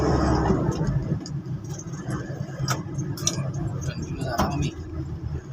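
Road traffic backed up near Sta Rosa Bridge in Nueva Ecija rumbles on as a continuous engine drone with small clinks and rattles, while people chat nearby throughout.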